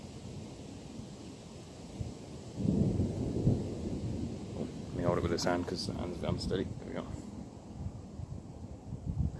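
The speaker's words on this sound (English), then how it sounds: "I love thunder." Rolling thunder from an approaching thunderstorm rumbles low and distant, swelling into a longer crackling peal midway, while a person talks close by over the storm.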